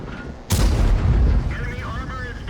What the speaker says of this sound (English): That's an example where I'm using AP rounds against a Type 4 Heavy and it's doing damage